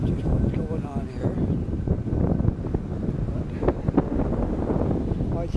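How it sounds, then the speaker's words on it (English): Gusty, cold wind buffets the microphone outdoors in Halifax's North End, with a steady low rumble and rough bursts, continuous over several seconds. "it's very windy down here"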